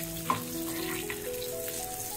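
Eggplant slices fry in hot oil in a pan with a soft, continuous sizzle and faint crackle, a few light utensil clinks and a low background hum, no one speaking.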